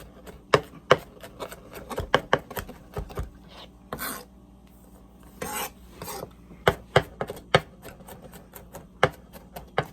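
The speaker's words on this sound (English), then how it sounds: "crush your garlic clove, run your knife through it. That's minced garlic." A knife mincing a crushed garlic clove on a cutting board, with sharp close taps and quick bursts of rocking chops in uneven runs, separated by brief pauses, with no talking.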